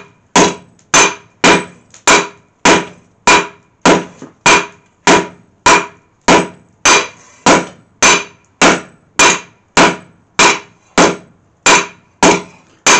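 Heavy hammer blows strike hot steel stock being forged into a bill hook with a striker, about eighteen loud, evenly spaced ringing impacts in a steady rhythm, close and alone.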